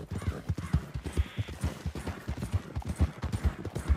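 A horse's hooves clip-clop at a brisk, even gallop in Red Dead Redemption 2, close and prominent, with rapid repeated thuds and no talk over them.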